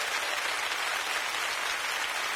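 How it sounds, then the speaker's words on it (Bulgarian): Studio audience applause for Preslava on a Bulgarian TV impersonation show, a dense, steady wash of clapping that stays even and loud throughout with no distinct claps standing out. "Аплодисменти за Преслава!"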